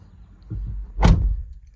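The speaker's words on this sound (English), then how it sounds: "So let me close the door." The driver's door of a 2022 Toyota RAV4 Hybrid LE is pulled shut from inside the cabin. A brief rustle comes first, then one close, solid thunk.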